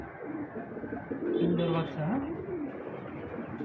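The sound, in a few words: exhibition homer pigeons cooing at a pigeon farm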